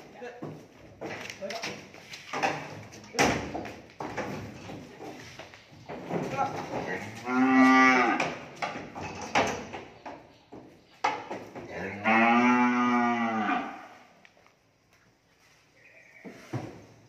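Cattle at a cow farm give two long, loud moos nearby, heard amid ongoing talk and stall noise.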